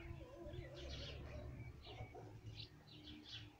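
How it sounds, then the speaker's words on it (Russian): Outdoor birds on a sunny morning, with chirps and soft pigeon or dove coos repeating in short bursts over a steady low background, fairly faint and at a distance. "Не мешай птичкам жить."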